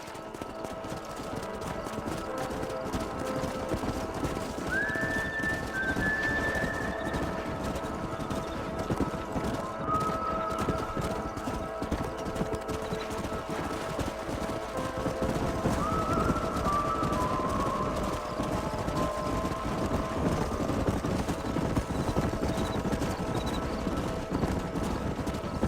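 Horses in the video game Red Dead Redemption gallop with continuous rapid hoofbeats, while several whinnies rise above the drumming at intervals.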